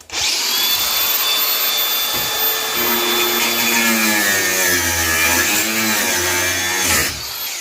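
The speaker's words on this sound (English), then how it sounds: "I've now got to use the grinder to do this" Angle grinder cutting on board a boat, a loud continuous high-pitched whine that dips and recovers as the disc bites into the work, running several seconds before spinning down.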